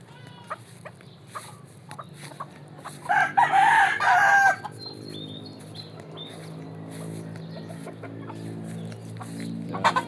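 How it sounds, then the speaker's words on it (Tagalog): Backyard chickens with a rooster crowing loudly at close range, a long cock-a-doodle-doo rising over steady clucking and chatter from the flock, with small birds chirping faintly in the background. "Ito ang mga manok namin"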